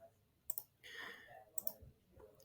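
Mouse clicks on dashboard widgets, two sharp double clicks spaced about a second apart against a quiet background, with a faint murmur between them.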